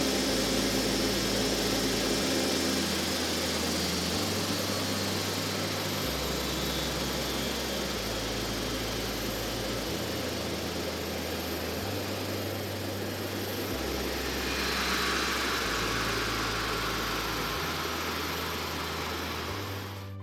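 A LEAP-1B turbofan on a Boeing 737 spools down at shutdown: a steady low, pulsing engine drone sits under a broad pressurized-air hiss that swells briefly partway through, loud and close with no voices.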